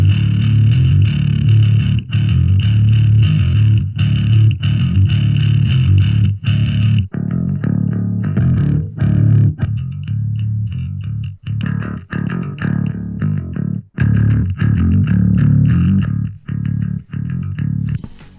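A distorted, heavily processed bass guitar through a GK bass amp simulator plays a choppy, rhythmic line with short breaks between notes, loud and up close with no voices.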